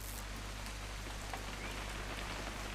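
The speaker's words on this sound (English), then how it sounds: "It's gonna rain the whole weekend," Steady rain falling in What Remains of Edith Finch, a constant even hiss with scattered droplet taps, fairly quiet and unbroken throughout.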